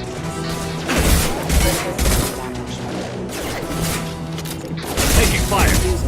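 Gunfire in the Mass Effect 2 video game: dense bursts of shots and impacts with clanking mechanical noise, loud and sustained throughout, with game voices speaking over the fighting.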